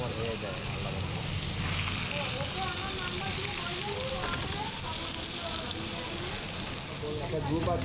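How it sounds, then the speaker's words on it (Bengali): Chicken sausages frying on one side of a pan while making chicken ramen, a steady loud sizzle and crackle filling the whole stretch, with faint scraping of stirring underneath. "প্যানের একটা সাইডেই আমরা চিকেন সসেসগুলো ভেজে নিচ্ছি।"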